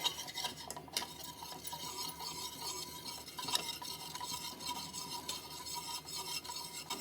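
A spoon stirs vanilla custard powder into liquid to dissolve it, giving soft, continuous scraping and swirling against the bowl with a few sharper clinks, close and fairly quiet, with no talking.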